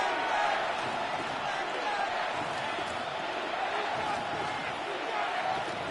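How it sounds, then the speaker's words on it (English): Stadium crowd roaring in the Madden football video game before a third-and-long play, a dense, steady wash of cheering that holds at a constant loud level throughout. "The crowd cranking it up another notch before 3rd and long."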